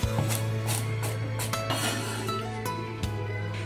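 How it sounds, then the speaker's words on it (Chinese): A knife minces garlic cloves on a board for a chicken leg dish, making a steady run of rapid, close chopping taps over a low background hum. "把它切成蒜末"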